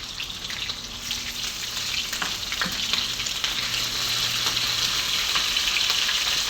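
Galunggong fish frying in hot oil, a loud continuous sizzle and crackle that builds slightly over time, close up with no talk.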